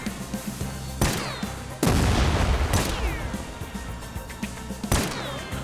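Grenade explosions in the first-person shooter game TimeSplitters Rewind, several loud booming blasts with crashing debris, one after another amid gunfire-like bursts, close and dominant with no talking.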